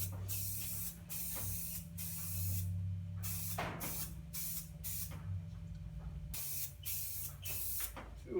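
Aerosol spray paint hisses from a can in a series of short bursts and longer passes with brief gaps between them, fairly close and steady, while a low engine-like hum runs underneath.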